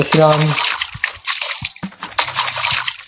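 Water splashes and pours in a home while someone is about to bathe, coming as several hissing bursts with short pauses, mixed with a voice talking over the first part.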